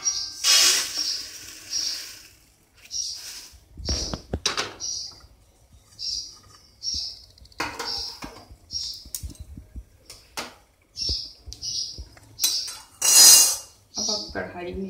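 Puffed rice scraped from a metal kadhai onto a plate, with repeated clanks and scrapes of a utensil against metal in irregular bursts, close and fairly loud.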